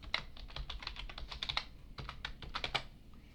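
Fingers type a password on a computer keyboard while a Fedora Linux system is set up: quick, uneven clicks and key taps close by, with short pauses between runs of keystrokes.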